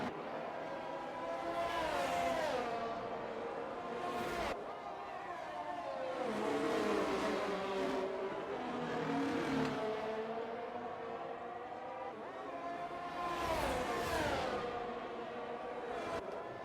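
F1 cars in the F1 22 racing game at the Brazil round, engines whining and rising and falling through gear changes as cars pass one after another, steady and moderately loud, with no speech.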